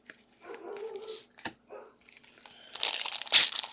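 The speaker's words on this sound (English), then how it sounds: "Don't mind my dog. He's probably barking at the wind." A dog indoors gives a few short, scattered barks among crinkling and tearing sounds of card packs being opened, ending in a louder burst of rustling.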